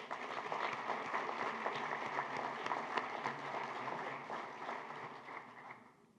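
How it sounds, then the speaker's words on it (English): Applause at an award ceremony honoring participating school districts, a sustained, fairly distant crowd clapping that continues steadily before fading out at the end. "let's give a big round of applause for our 16 participating LEAs"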